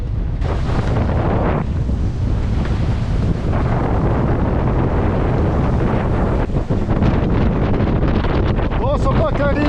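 Strong Caribbean wind at sea near Guadeloupe buffets the microphone aboard a sailboat, a loud continuous roar with waves and surf beneath and brief squeaky rigging sounds near the end.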